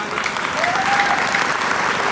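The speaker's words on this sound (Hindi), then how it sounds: "एक बार तालियां उठाइएगा पीछे" A crowd at a Hindi poetry recital (kavi sammelan) breaks into loud, sustained applause, a thick wash of many hands clapping close by without a break for the whole stretch.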